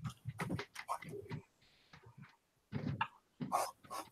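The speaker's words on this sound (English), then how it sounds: "My dog's losing her mind." A dog barks excitedly in bursts indoors at a mail carrier arriving, loud, sharp yelps with short pauses between volleys.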